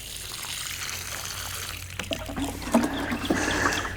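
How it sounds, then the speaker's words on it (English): Water poured from a roughly 2.5-gallon watering can to soak the soil around a newly planted tree's roots, a soft steady trickle and splash that grows louder and busier toward the end. "I just want to soak that ground, let that water pull that dirt down in and take out all those air pockets"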